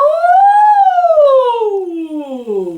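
A single voice glides smoothly up and then slowly down in pitch on a sustained "wow" in a vocal siren exercise, imitating a gentle siren.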